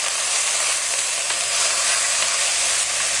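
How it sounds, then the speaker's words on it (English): Red wine vinegar is stirred into a pan of sizzling caramelised onions, giving off a loud, continuous steamy hiss and sizzle that holds steady throughout. "And just stir that in."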